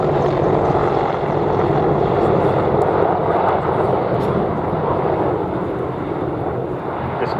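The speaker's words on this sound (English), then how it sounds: "the Apache is highly maneuverable, as you can see with this 270-degree wing over" An Apache attack helicopter flies a tight wingover display at the Duxford airshow, its engine and rotor roar loud and continuous throughout, with what may be a commentator's voice under the noise.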